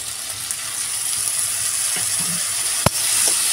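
Ginger-garlic spice paste frying in a pan for a mandeli fish curry, a steady close sizzle with faint scraping stirs and a sharp clink near the end.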